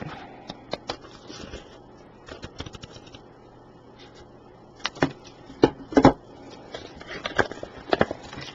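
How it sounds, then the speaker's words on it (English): Scissors cut cardboard up close in irregular snips and crunchy cuts, sparse and soft at first, then louder, denser clusters of cutting toward the end. "Take your scissors."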